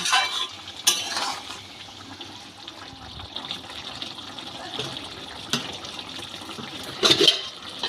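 Chana dal fritters are stirred with potatoes in a pan, giving soft scraping and wet swishing, with a few sharper clinks of the spoon against the metal pan, close up and with no talking.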